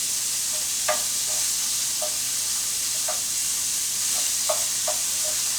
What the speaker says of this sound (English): Everyone likes to see some sizzling bacon.